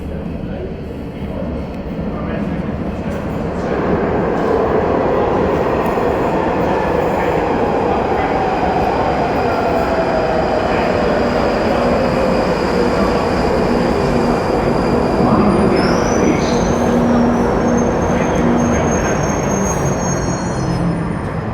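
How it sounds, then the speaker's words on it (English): A London Underground train pulls into the Morden-bound platform at Balham: a deep rumbling roar builds and holds, with a faint rising whine and a thin squeal of wheels as it arrives, loud and enveloping. "Alright, so now the train is arriving for Morden."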